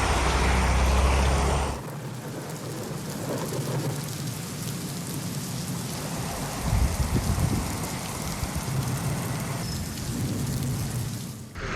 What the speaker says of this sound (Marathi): सिंधुदुर्ग जिल्ह्याला अनेक भागामध्ये रात्री मुसळधार पाऊस झाला.